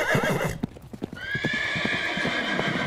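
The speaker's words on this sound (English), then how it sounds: "And it's a nice little horse." Hooves clip-clop in an uneven rhythm while a horse lets out a loud, drawn-out whinny partway through.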